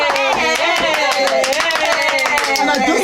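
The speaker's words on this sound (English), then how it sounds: "right now I'm just gonna give you some hand clap" Hands clap in a quick, steady rhythm, sharp slaps layered over a loud voice that carries through the whole stretch.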